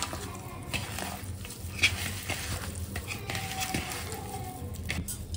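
Fish pieces are mixed by hand with salt, turmeric, fresh ginger-garlic paste and coriander powder for Apollo fish fry, giving soft, wet squelching and stirring noises that stay fairly quiet and continuous.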